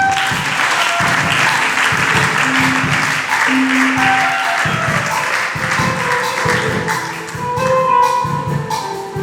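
A church congregation applauding to acclaim the Lord, loud continuous clapping filling the room throughout, with voices and sustained musical tones underneath.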